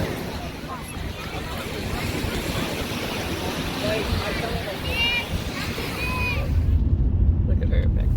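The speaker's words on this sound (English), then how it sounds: "The waves might be too loud." Surf washing onto a sandy Lake Michigan beach at Indiana Dunes, a steady broadband rush with wind buffeting the microphone and people talking faintly under it, growing louder near the end.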